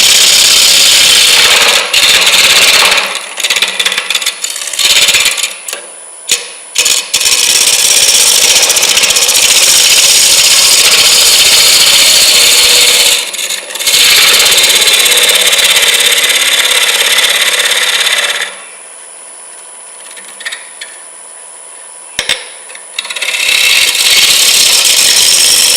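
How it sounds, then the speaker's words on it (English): A wood lathe turns a green wood bowl during a turning demonstration. Loud, sustained cutting and rubbing runs for long stretches and breaks off briefly several times. It then returns to a quieter hum before the heavy cutting resumes. "I'm going to try to kind of move over here and use a similar cut going in toward the lathe to get some of this bottom cut off"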